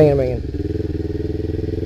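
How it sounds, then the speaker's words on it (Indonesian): A 2011 Kawasaki Ninja 250 carbureted motorcycle engine runs with a steady, rapidly pulsing rumble close to the microphone, following a brief voice at the start. "sampai sini aja gue test ride motor ini, Kawasaki Ninja 250 tahun 2011 karburator"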